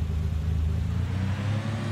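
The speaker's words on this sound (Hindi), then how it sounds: "इंजन धाड़ मार रहा है शेर की तरह।" Engine of a golden 2020 Lamborghini Aventador SVJ Roadster supercar in Farming Simulator 19, a steady low rumbling drone held throughout, close and with no talking.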